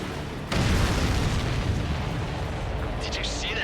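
A large explosion of an enemy ship in the Ace Combat 7 air-combat game bursts in loud and close at half a second, then rumbles on as a broad, steady roar for several seconds with no voices.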